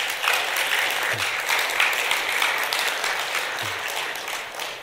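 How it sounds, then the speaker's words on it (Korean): Steady applause from a Buddhist temple dharma-talk congregation honoring a monk's graduation from the Sangha university, dense and sustained throughout at moderate loudness, with no voices. "우리 지호스님께 박수 한번 보내주시죠"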